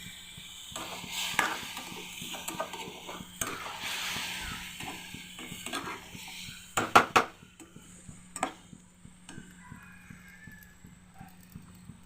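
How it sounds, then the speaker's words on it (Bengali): Banana flower curry stirred in a pan, irregular scraping and clacking of a utensil against metal, with a cluster of sharper knocks midway, close and moderately quiet over a faint steady hum. "এবার সবগুলো একসঙ্গে আরেকটু ভালো করে নাড়ব"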